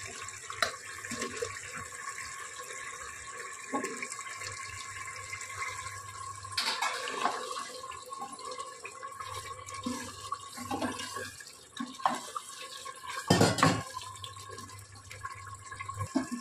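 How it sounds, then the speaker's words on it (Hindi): Water is poured into a cooking pot holding potatoes for a mutton and potato stew, a running splash heard close up amid clinks and kitchen handling noises. "इसमें हम थोड़ा पानी ऐड करेंगे"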